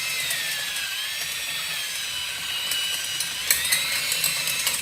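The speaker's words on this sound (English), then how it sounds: "So that's why we're going to continue to move the drill around." A power drill whines steadily as it drills out a spinning rivet in sheet metal, high-pitched and continuous, with small ratcheting bites and clicks toward the end.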